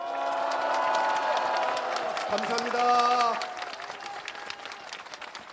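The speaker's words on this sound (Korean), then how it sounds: "박수를 한번 크게 올려주십시오." A crowd at a Save Korea rally applauds steadily across the whole stretch, dense clapping with some cheering, while someone speaks briefly over it.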